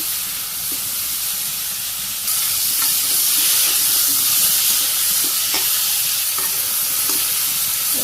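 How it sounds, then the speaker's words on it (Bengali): Potatoes and cauliflower frying in a little oil, a continuous loud sizzle and hiss that swells partway through, with light scrapes of stirring. "সামান্য একটু তেল দিয়ে আলু আর ফুলকপি"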